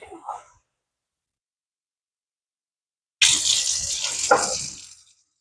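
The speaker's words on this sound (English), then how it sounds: "we're going to drain this off" Liquid drains off cooked macaroni and beef goulash in a brief splashing, trickling pour after a pause, close by and lasting about two seconds.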